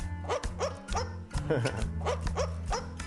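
A female pet dog barks and yips in a quick, steady rhythm, about a dozen sharp barks close by over a low humming background.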